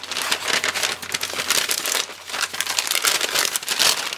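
Paper name slips rustle and crinkle inside a bag as it is shaken, a loud, busy rattling that rises and falls in bursts with no talking.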